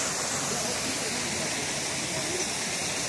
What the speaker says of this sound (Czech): Tady trošku vidíte ten vodopád,